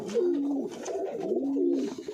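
Pigeons cooing close by in a loft in repeated soft, throaty rolling calls, several overlapping phrases with no talking.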